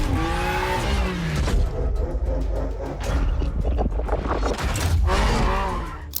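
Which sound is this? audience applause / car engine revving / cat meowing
car engine revving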